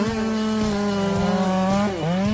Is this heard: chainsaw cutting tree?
yes